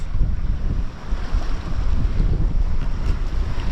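Steady rushing water and wind noise buffet the microphone, a continuous low wash of a catamaran hull cutting through waves under sail.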